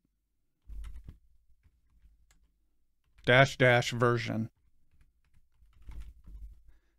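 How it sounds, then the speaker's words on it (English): A computer keyboard clatters in two short bursts of quick key clicks as a command is typed into the VS Code terminal, with a brief spoken phrase between them. "Let's verify the version by typing bicep"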